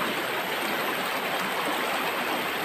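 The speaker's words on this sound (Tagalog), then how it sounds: "Ito guys, so napakalaking ilog to guys." A large river flows steadily in the wild, a dense, continuous broadband rush of moving water with no pauses, even and close throughout.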